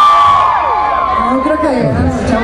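A crowd at a live stage show yells and whoops together, a loud sustained communal shout with rising and falling voices, the men of the audience competing to be heard.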